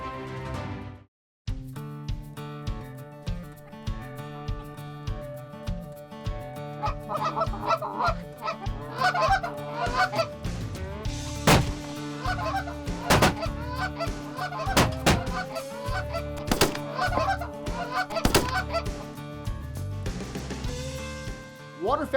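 Geese honking in a late-season waterfowl hunt, a loud flock calling over and over in overlapping clamor, with sharp distinct honks rising above a steady wash of calls. It runs throughout, with a brief gap near the start.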